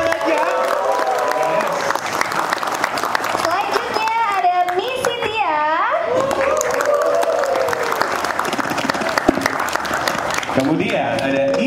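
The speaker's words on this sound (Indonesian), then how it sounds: "Boleh tepuk tangan ya." Crowd applause and cheering at the grand final of a barber championship as judges are introduced, continuous clapping mixed with shouts and whistles, and excited voices throughout.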